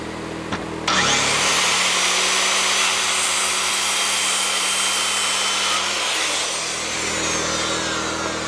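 Power tool cutting across the end of a rough sawn log to square it up for a cabin wall, starting abruptly with a loud sustained whining roar that holds steady and eases slightly near the end.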